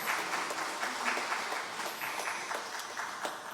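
Applause from a church congregation during a prayer service, a steady wash of many hands clapping at moderate volume for a few seconds with no voices over it.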